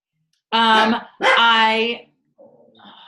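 Indoor dogs let out two loud, close barks in quick succession, then a softer yip or whine trails off.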